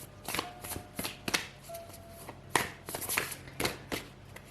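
Oracle cards being shuffled by hand, a series of soft riffling, flapping bursts in quick succession, close and quiet with no talking.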